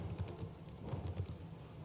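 Quiet, rapid clicking of keys on a computer keyboard while writing code, a short run of soft irregular taps close by.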